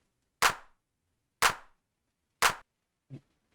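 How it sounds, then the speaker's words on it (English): Three identical punchy hits of a kick drum layered with a clap sample, evenly spaced about a second apart, each ringing briefly into silence, followed by a softer, duller thump. "You can see the combination of the kick and the clap's quite loud."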